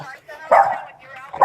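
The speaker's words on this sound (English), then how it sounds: "My dog." A dog barks in short, loud bursts close by during a tense police encounter in South San Francisco, with agitated voices talking over and around it.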